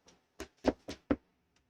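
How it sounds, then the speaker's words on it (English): Knocking on a door during a tabletop role-playing session: five quiet, evenly spaced raps, the middle ones heaviest, then a faint last tap after a pause, heard alone in a hushed room. "you hear a knock on the door"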